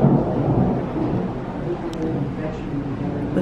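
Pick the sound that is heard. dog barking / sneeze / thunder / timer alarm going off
thunder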